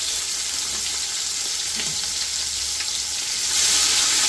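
Sliced onions with salt fry slowly to caramelise for a big batch of pilau, giving a steady close sizzle that swells a little louder near the end.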